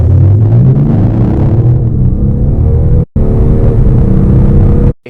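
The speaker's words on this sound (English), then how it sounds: "this two-door BMW diesel sounds like this" A BMW 840d two-door diesel coupe revs hard, a deep loud rumbling engine note rising and surging across several seconds, heard close with two abrupt cuts, no speech.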